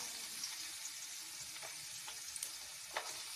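Black pepper, chilli, ginger and garlic sauté in coconut oil for a chicken curry, making a soft, continuous frying hiss with a few faint stirring ticks.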